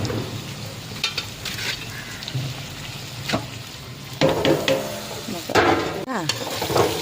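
Sliced ivy gourd (kovakkai) sizzles steadily in a hot pan while a ladle scrapes and stirs through it in irregular bursts. The frying is close and moderately loud, with little talking.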